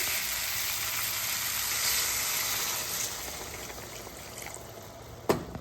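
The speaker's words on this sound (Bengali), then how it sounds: "এবার আমি দিয়ে দেবো জল" Water poured into a pan of ivy gourd curry fried in a little ghee sets off a loud, hissing sizzle that slowly settles, ending with a couple of sharp clanks of utensils on the pan.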